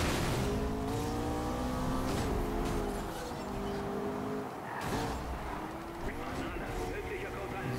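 A McLaren 12C Spider races in Need for Speed Rivals, its engine note revving and shifting while the car chases another driver. The engine sound runs continuously under loud, excited talking.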